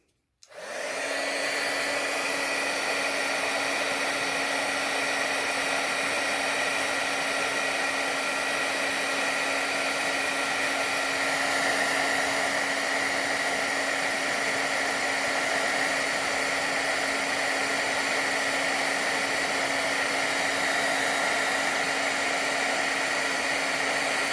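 Embossing heat tool blowing close up as it melts embossing powder: a loud, steady whooshing roar with a constant motor hum that starts abruptly and runs unbroken throughout, with no talking.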